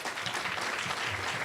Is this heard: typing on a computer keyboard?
no